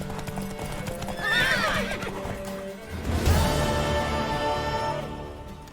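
A horse's clip-clopping hooves and a loud, close whinny followed by a second neigh in The Witcher 3 video game, with a faint musical tone beneath; no talking.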